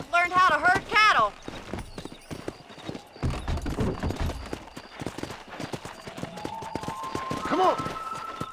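A horse gallops while herding cattle in the Western video game Red Dead Redemption: rapid, loud hoofbeats with a whinny at the start and voices talking over parts of the ride.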